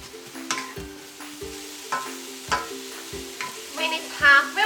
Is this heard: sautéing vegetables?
yes